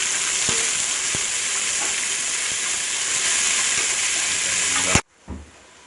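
Onions and green chilies sauté in hot oil for a restaurant-style vegetable biryani, giving a steady, loud, close sizzle with a few soft stirring knocks. The sizzle cuts off abruptly near the end, leaving a brief faint clatter.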